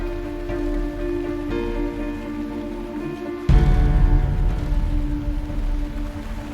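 Rain falls at the Forbidden City in Beijing as a steady, dense wash that grows noticeably louder partway through and continues without a break.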